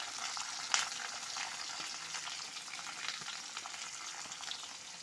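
Chopped carrot, cauliflower and beans sizzle steadily in a hot pan during village-style Bengali cooking of chire polao, with one sharp clatter near the start.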